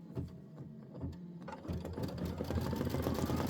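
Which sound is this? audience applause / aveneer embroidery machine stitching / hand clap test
aveneer embroidery machine stitching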